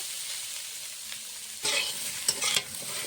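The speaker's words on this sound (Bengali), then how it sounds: "আলুর সঙ্গে কলার ঠোঁটটা ভালো করে ভেজে নিচ্ছি।" Diced potato and banana blossom sizzle steadily in a hot pan while a spatula stirs and scrapes through them, giving a few louder scraping bursts over the constant frying hiss.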